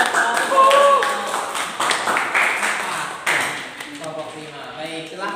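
A classroom claps for a student group after a presentation, the scattered hand claps mixing with people talking over them. The clapping thins out toward the end.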